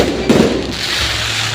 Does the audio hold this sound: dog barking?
no